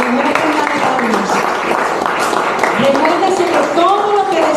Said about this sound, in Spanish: dale al Señor la mejor ofrenda de palmas